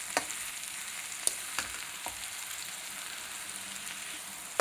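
Pumpkin halwa cooking in ghee, a soft continuous hiss with a few sharp spoon taps and scrapes against the pan, quiet and close, no voices.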